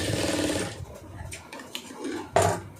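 Sewing machine stitching a round neckline on a garment, a steady whirring run for the first moment, then quieter handling sounds with a few brief clicks and a louder burst near the end.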